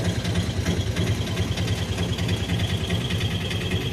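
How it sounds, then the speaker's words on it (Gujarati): Large boat engine running steadily near Pipavav port, a repair stop for big boats; a continuous low throbbing rumble with a fast pulsing beat, loud and close, no talking. "એક બોટ આમથી આવે છે"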